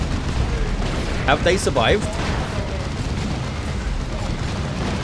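D-cannon shots and explosions in the video game Dawn of War 2 rumble as a dense, continuous barrage of booms and blasts beneath energetic commentary, with a brief sharper burst near the middle.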